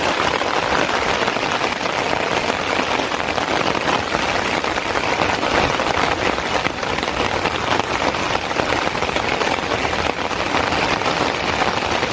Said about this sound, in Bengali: এই সময় বৃষ্টি এসে পড়ছে